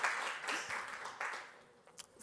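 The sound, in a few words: audience applause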